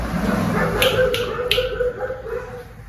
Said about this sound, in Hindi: तो बच्चे बाहर भौंक भी रहे हैं